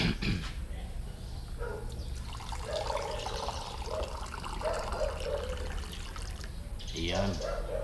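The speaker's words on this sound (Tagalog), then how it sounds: "Lagyan muna natin ito ng tubig." Water poured into a cup, trickling steadily for several seconds while a voice talks over it and the splashing rises and falls.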